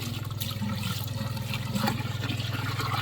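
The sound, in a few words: pond water being pumped into a tilapia filter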